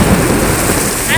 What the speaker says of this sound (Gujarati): અત્યારે ફૂલ વરસાદ ચાલુ છે